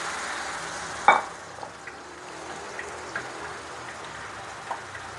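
Tofu fries in oil while leftover batter goes in, a soft steady hiss and bubbling with one sharp splash-like burst early and a few faint ticks and pops afterward.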